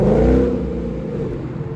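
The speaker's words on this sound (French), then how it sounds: "Vous savez pas le bruit que ça fait. C'est démoniaque. Petit Mustang sympathique." A Ford Mustang engine revs nearby, a loud throaty roar that swells early and then settles into a steady rumble, with no talking over it.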